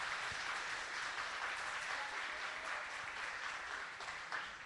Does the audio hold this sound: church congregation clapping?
yes